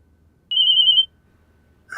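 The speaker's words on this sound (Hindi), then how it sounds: "अरे यार, जो फोन कहाँ से टनटना पड़ा" A telephone ringing once, a single clean electronic tone lasting about half a second in an otherwise quiet room.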